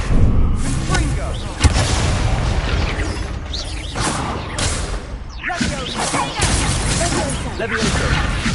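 A fiery blast spell in Hogwarts Legacy erupts in loud booming bursts and crashing impacts over dense rumbling game action, with a shouted voice partly under the din.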